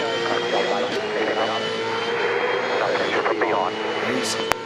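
A Supercars V8 race car at the Sydney 500 circuit heard from onboard, its engine roaring loud and close and changing pitch as it shifts up through the gears, with a commentator's voice over it.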